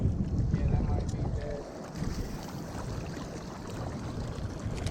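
Wind blowing at a beach jetty by the water: steady, loud rumbling gusts buffet the microphone throughout, with a muffled voice briefly mixed in.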